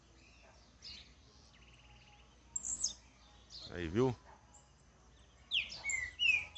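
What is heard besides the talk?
small bird singing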